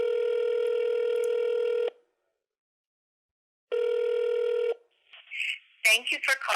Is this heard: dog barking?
no